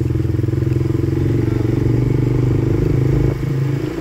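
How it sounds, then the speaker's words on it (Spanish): A Vento motorcycle ridden through town streets between Santa Ana Pacueco, Guanajuato and La Piedad, Michoacán, its engine giving a loud, steady pulsing chug at cruising speed with wind and road rumble, close to the rider. "Aquí vamos en la moto."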